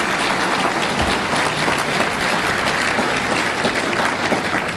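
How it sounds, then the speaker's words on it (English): Dense, steady applause from a large political event audience welcoming a speaker on stage in Orange County, sustained at even loudness throughout with no talk over it. "Big round of applause for Ben Shapiro."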